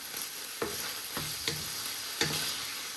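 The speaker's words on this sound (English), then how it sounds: "And then you want to give all that a nice stir." Sloppy joe sauce with a squirt of tomato puree being stirred in a pan, a steady sizzle broken by four or five scraping stirs that sweep through the mix, close and moderately loud, no voices.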